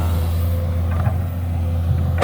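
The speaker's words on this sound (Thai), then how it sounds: "เครื่องยนต์ก็หึมอยู่แล้วครับ" A Komatsu PC200-8 excavator with an SAA6D107E diesel engine idles steadily and close by, its low, even rumble continuing without a break.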